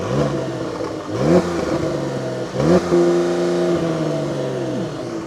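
Tuned Porsche 911 992 GTS flat-six with an Akrapovic exhaust blipped in comfort mode: two loud, sharp revs rise and fall back to a throaty idle, heard close and alone.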